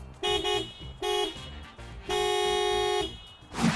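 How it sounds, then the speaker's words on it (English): A 2019 Toyota RAV4 sounds its horn three times: two short toots, then a longer blast held for about a second, each a clear, bright, steady tone. "the actual sound of the RAV4's horn is this."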